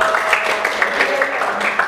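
Students in a classroom clap their hands together in a brief, fairly loud burst of overlapping applause lasting under two seconds.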